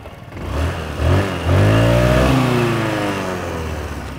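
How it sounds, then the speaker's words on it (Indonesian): A Benelli Panarea 125 scooter engine and exhaust running up close, blipped a few times so the smooth hum rises in pitch and then settles back to a steady idle. "Kalau suara knalpotnya sih halus dan mesinnya juga halus."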